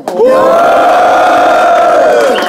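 A loud crowd roars and shouts together in one sustained, rising cheer that swells and holds for a couple of seconds.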